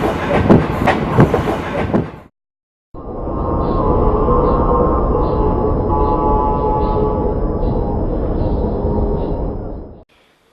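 A train rolls along the rails on a long journey across India, a steady loud rumble with faint rhythmic clatter that runs for about seven seconds after a short burst of other noise and a brief gap.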